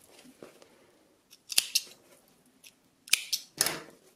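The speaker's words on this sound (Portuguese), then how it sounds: "vou cortar este cantinho" Sharp scissor snips cutting a corner of fabric while sewing a child's turban-style headband with a bow, a few quick isolated cuts with quiet pauses between them, close and clear.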